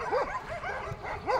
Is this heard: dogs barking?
yes